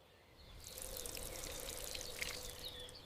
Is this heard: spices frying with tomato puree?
no